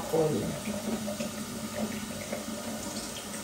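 An apple is washed under a running kitchen tap while making a smoothie, giving a steady, fairly quiet stream of water with brief splashes as the fruit moves through it, and a voice speaks faintly over it.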